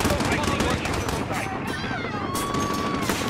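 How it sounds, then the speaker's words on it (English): Gunfire in Call of Duty: Modern Warfare rattles in dense, fast bursts under constant game noise and background effects, moderately loud and continuous, with someone talking over it. "Who is shooting? Dude, they're shooting people."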